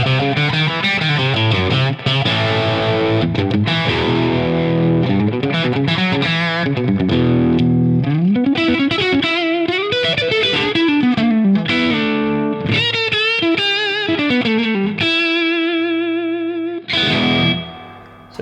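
Single-cut electric guitar through the high-gain channel of a Friedman amp, loud distorted chords strummed and let ring, several changes in a row with a snarly, saturated tone and a final sustained chord.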